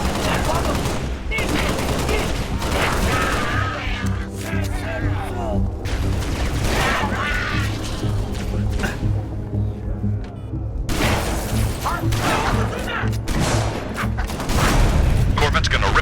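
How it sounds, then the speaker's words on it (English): Heavy sustained gunfire in Halo Reach co-op combat, dense overlapping bursts with booms and thuds, loud and continuous throughout, with game character voices speaking over the battle. "Laying down heavy fire."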